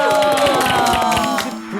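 A talk-show studio audience cheers and claps in a loud, steady burst, heard close with music and voices layered over the crowd noise.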